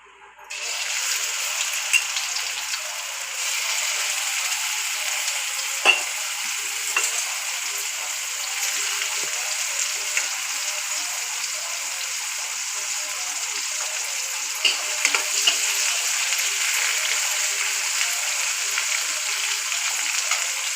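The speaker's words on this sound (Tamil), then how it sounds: "எண்ணெய் காஞ்சதுக்கப்புறம் முதல்ல நம்ம கருவாடை போட்டு பொறிச்சு எடுத்துக்கலாம்" Dried fish fries in hot oil in a pan, giving a loud, steady, close sizzle that runs throughout with occasional small pops and crackles.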